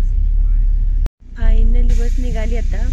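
Bus pulling away after a meal stop on an overnight trip, a steady engine rumble rising after a brief cut, with a harmonic whine as it gathers speed and voices talking over it.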